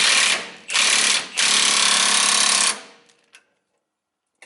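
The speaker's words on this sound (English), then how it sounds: "got my torque wrench here. And we're going to torquelate this thing down" A power wrench runs hard on the driveshaft bolts of a 1978 square-body Chevy truck during a rear end swap, three loud, close, rattling bursts with short gaps, then it trails off into near silence and a faint click.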